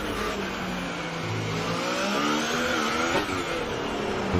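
Racing cars driven on the Monaco street circuit give a loud, continuous engine whine that rises and shifts pitch as they accelerate, with possible tire squeal and no voices.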